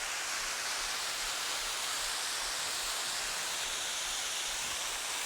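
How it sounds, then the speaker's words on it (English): A small waterfall at Hanging Rock State Park, North Carolina, pours in a steady, close, broadband rush of falling water that holds constant without pauses. "this is a great little waterfall"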